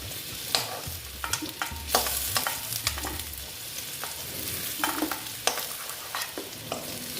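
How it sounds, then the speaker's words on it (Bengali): Pumpkin pieces frying in a pan for a panch phoron pumpkin dish, a continuous close sizzle broken by repeated clinks and scrapes of stirring. "আমার ভাজাটা প্রায় হয়ে গেছে হ্যাঁ এবার আমি এগুলোকে তুলে নেব"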